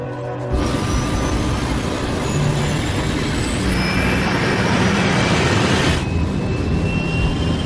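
In a dramatized reconstruction, Concorde's jet engines roar steadily through the takeoff roll, loud and sustained with a rising whine that cuts off sharply near the end.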